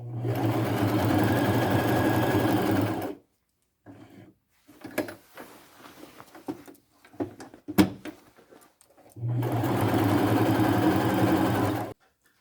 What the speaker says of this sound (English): I'll zigzag stitch this on. And I always use a denim needle when I sew jeans.